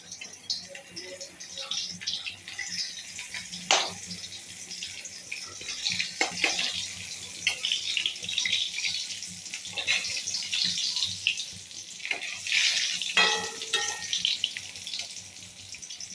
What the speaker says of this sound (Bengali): গোটা সেদ্ধ যত সবজি ধুয়ে ভালো করে ধুয়ে পরিষ্কার করে রেখে দেবো